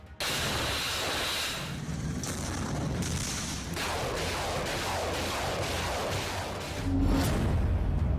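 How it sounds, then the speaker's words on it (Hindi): Gunpowder blasts and explosions in the Ukraine war come as a dense roar of rumbling booms and crackling bursts. The sound is loud and sustained and seems fairly distant, with a deeper swell near the end. "बारूदी धमाकों से फिर दहला यूक्रेन।"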